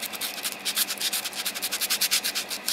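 Close, rhythmic scratchy strokes of a Tamiya 400 grit sanding sponge rubbing back and forth across a hard plastic P-38 Lightning model kit, repeating quickly and evenly.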